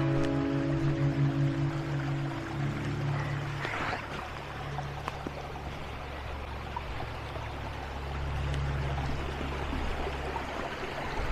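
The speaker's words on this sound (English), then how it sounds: "So this is Barnum Creek" A creek in a Haliburton Highlands nature reserve flows steadily under a low boat-like hum, a continuous soft trickle and rush with no one talking.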